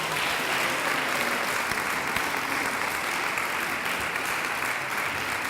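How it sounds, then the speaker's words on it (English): An audience at a candidates' forum gives a sustained round of applause. The clapping stays dense and even across several seconds at moderate distance, with no speech over it. "So please give them a round of applause."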